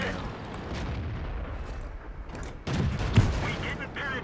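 Artillery fire in World of Tanks: a low rumble of distant shelling followed by a louder close impact and boom near the end, over a steady game-engine drone.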